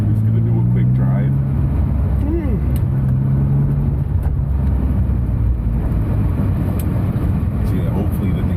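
Inside a fully built BMW E36 M3 track car on a quick drive, a loud, steady engine drone and road rumble with shifting tones, heard close and continuous throughout.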